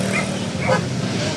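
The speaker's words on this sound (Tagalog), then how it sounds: "Ay, daming aso." Dogs yip and bark in short, excited bursts close by, with a whimpering edge, over general outdoor background noise in a street with vendors in the Philippines.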